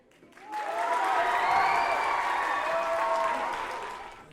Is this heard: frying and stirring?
no